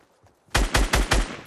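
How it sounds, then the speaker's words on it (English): Four rapid, loud gunshots from a gun in the Fortnite video game burst out in quick succession after a moment of near-quiet, with no talk. "Shoot my gun in there."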